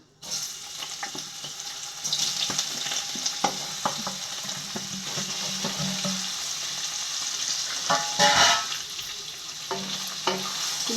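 Paneer cubes frying lightly in a curry pan with kasuri methi, giving a steady close sizzle with intermittent scraping stir clicks throughout and no speech.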